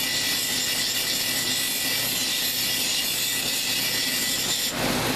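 An older grinding wheel shapes a stone cabochon in a continuous, loud, rough grinding whir that holds steady throughout and shifts slightly near the end.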